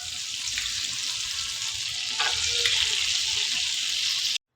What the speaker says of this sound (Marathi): तेल घालून झाल्यावर त्यात बटर घालणार आहे मी